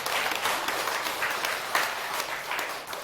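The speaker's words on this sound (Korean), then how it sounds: "박수 한번" An audience claps together in a lecture hall, a brief dense burst of applause that holds steady for a few seconds.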